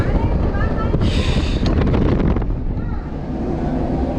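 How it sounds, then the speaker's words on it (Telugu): Strong wind buffets the microphone outdoors on a trip to Srisailam, a loud continuous roar with gusts swelling and easing, while voices sound faintly underneath. "ఎక్కువ గాలి కొట్టుకోవద్దు, ఉబ్బిపోతు."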